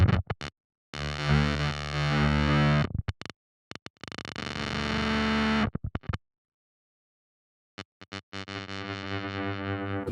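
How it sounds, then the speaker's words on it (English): Heavily distorted electric guitar chords through a Nembrini Klon clone pedal on extreme distortion ring out in bursts, with abrupt cutouts and silent gaps, ending in choppy, stuttering fragments. "let's listen to the Nembrini version and watch what it does on this extreme distortion"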